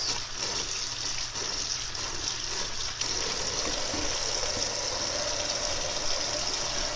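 Tap water running steadily while a paintbrush loaded with water-based paint is wetted and washed with soap, a constant close splashing flow with no voices.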